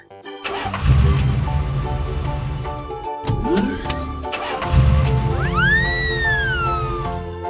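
A car engine turns over and runs with a steady mid-pitched rumble, then revs up, with rising whines and layered sound effects and music over the top; fairly loud and close.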